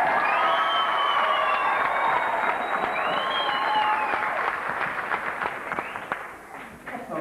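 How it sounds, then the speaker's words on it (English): An audience bursts into loud, sustained applause with cheering and whoops, as if for a fabulous first act at a live show; the dense clapping holds steady, then thins slightly toward the end. "applaud as though you just heard the most fabulous act in the world"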